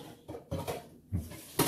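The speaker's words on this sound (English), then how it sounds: "So we're going to get us a good old skillet" A metal skillet pulled out for frying, several clanks and knocks in an uneven sequence, close and moderately loud with quiet gaps between.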